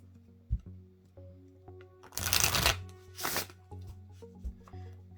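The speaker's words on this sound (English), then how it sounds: "I'm going to go ahead and shuffle these other cards and see what we get" Thin-cardstock tarot deck being riffled and bridged: a short burst of crisp riffle shuffling, a quick second flutter, then quiet handling clicks against a low steady hum, close and alone.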